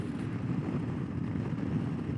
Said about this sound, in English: We're in 5th gear, which is the top gear for this motorcycle. And it is cruising nicely.